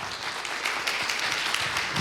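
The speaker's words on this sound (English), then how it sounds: "Let's give them another round of applause." Audience applause at a town hall meeting on the 2020 Census in Erie County, a steady wash of many hands clapping heard briefly from within the room.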